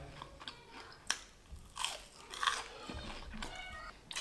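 Loud, close crunching as a crisp churro dipped in chocolate is bitten, followed by several rough chewing crunches with no talking.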